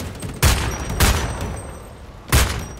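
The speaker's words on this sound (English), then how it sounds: "This is why I have a marksman rifle, because it's so beastly." Three heavy marksman rifle shots crack out in Homefront: The Revolution, loud and close with a booming low tail, spaced irregularly with a short gap, then a longer pause before the last.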